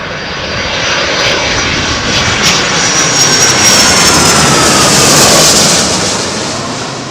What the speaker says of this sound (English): Icelandair 757, RB211s.